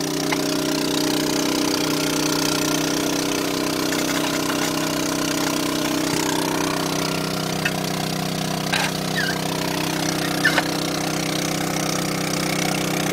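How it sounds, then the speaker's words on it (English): A trenchless pipe-bursting rig drives a double-blade cutter through old buried pipe, giving a continuous mid-pitched mechanical drone with faint scattered clicks and knocks over about thirteen seconds. "See how it cuts that pipe right in half, making room for the new pipe."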